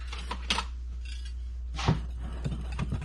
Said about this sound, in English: we'll just whisk them together